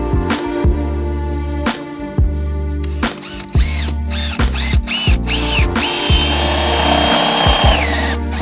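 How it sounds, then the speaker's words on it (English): A power drill bores a hole during a camper van interior build, running in short whirring bursts that rise and fall in pitch between pauses, with clicks and knocks of handling in between, close and loud. "I'll just set you up and we'll drill a hole."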